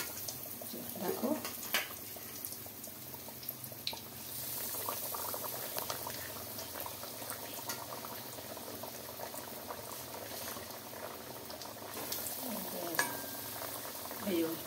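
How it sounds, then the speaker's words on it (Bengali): Fish cutlets frying in hot oil in a pan, a steady broadband sizzle and bubbling throughout with occasional clinks and stirring sounds, close and moderately loud, with faint voices in the background. "এবারে তেল দিয়ে দিয়েছি, তেল গরম হয়ে গেছে। এবার আমরা কাটলেটগুলো দিয়ে দেবো।"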